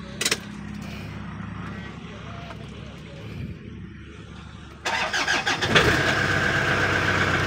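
A car engine with a repaired ECU, previously stalling when shifted into drive or reverse, cranks and catches partway through, then runs at a steady idle after a quieter stretch, with voices nearby.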